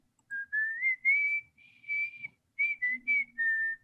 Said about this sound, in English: Where's that damn sound coming? Who's whistling?